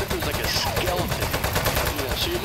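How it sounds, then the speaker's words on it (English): Rapid gunfire crackles through the video game Desk Job as a dense, continuous burst of repeated shots, loud and close, with no pauses across the clip. "I can't hear you over the gunshots."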